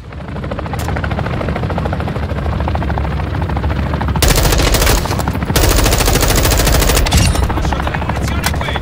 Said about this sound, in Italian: Elicottero nemico sopra di noi.